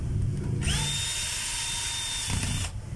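A cordless screwdriver whirs steadily for about two seconds at a constant pitch, up close and loud, with brief spin-up and stop, like a single screw being driven.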